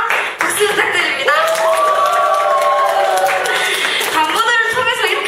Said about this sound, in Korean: 큰 함성과 박수 부탁드립니다